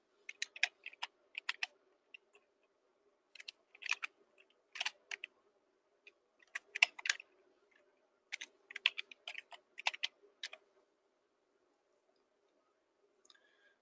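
Fingers type on a computer keyboard in quick clusters of clicks separated by short pauses, close and quiet in an otherwise silent room.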